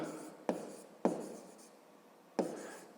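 A pen writes the Ukrainian word for "check" by hand on paper, making quiet, close scratchy strokes with three sharp taps as it touches down, alone without talk.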